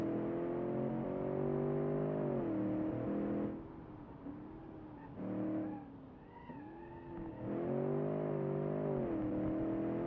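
A naturally aspirated SUV engine accelerating on a track, its rising harmonic whine climbing through gears with brief dips as revs drop between shifts, steady and fairly close.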